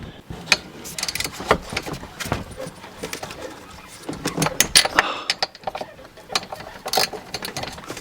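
A wrench works loose the fan clutch nuts on a Toyota 4Runner or Tacoma engine, with irregular metallic clicks, ratcheting and clanks close by, scattered in bursts with brief pauses.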